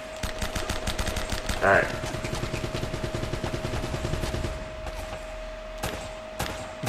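Rapid automatic gunfire rattles steadily in the video game Uncharted: Drake's Fortune, continuous bursts of sharp shots with a brief louder blast, while someone briefly speaks over it.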